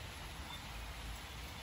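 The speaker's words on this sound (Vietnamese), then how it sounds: "Tây Nguyên mưa, bão bùng quá, không đi làm gì được" Rain pours steadily in Vietnam's Central Highlands during stormy weather, a constant faint hiss of falling water with no distinct drops standing out and no voices.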